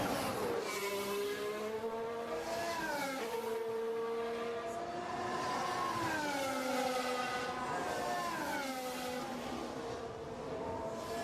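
Formula 1 cars in practice at the 2021 Saudi Grand Prix, engines screaming with rising and falling whine as they pass, layered and continuous at high volume.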